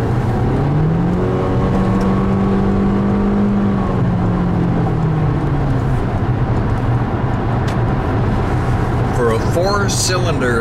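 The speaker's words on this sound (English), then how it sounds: "Four-cylinder engine, this CHR merges onto an expressway with ease." A 2019 Toyota C-HR Limited's four-cylinder engine pulls hard while merging onto an expressway, its note rising and then holding under steady road and wind noise inside the cabin.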